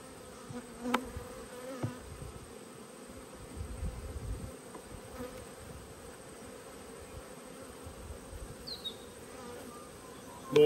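Honey bees buzz steadily around full, thriving beehives during a nectar flow, a low continuous hum with occasional louder passes of individual bees close by, no talking.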